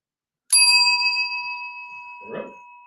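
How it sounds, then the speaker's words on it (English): A single strike on a counter service bell rings out bright and close, its metallic tone ringing on and slowly fading, with a brief soft rustle near the end. "If we do want service here, ring the bell once."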